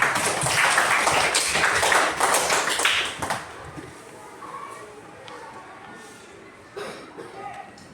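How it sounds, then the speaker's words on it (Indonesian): Classroom students clapping together on cue, a loud burst of overlapping hand claps for about three seconds that quickly fades into quiet room noise with faint voices. "Ya, berikan tepuk tangan."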